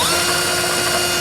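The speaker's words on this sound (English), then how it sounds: "I'm going to be using a file attached to a drill." A drill driving a file attachment grinds steadily against metal, enlarging a bolt hole in a vehicle frame for a trailer hitch receiver install; a continuous close whirring rasp with no pauses.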